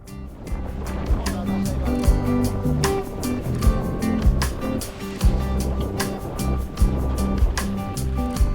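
A motor pushes a boat across open sea on a Tuamotu voyage, a steady continuous engine drone mixed with water and wind noise, with rhythmic surges throughout.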